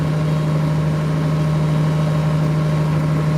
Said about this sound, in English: We can finally park this tractor